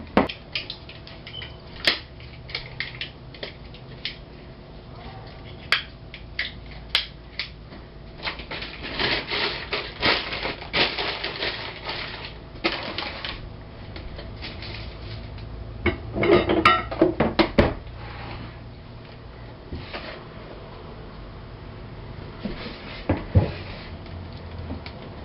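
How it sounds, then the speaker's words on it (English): A hand whisk beats a mixture in a bowl, giving scratchy, uneven scraping and clinking strokes that grow busier midway, close and fairly loud with no talking. "I'm the human mixer. Not too easy with a whisk."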